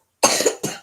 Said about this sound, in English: you hear him coughing